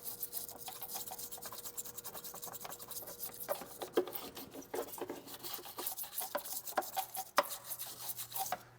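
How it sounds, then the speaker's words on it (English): Brisk scrubbing of surface rust off a car frame near a wiring harness, a close, uneven scratching and rasping with irregular strokes and occasional sharp scrapes. "I'll just keep scrubbing and scrubbing until I see less of the brown rust and more of the metal"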